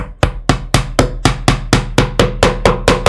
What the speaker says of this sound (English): you put your nails in slightly angled, still putting the pressure on.